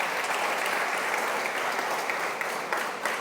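A church congregation claps in a sustained burst of applause that fills the room, steady and loud from start to finish with no voices on top.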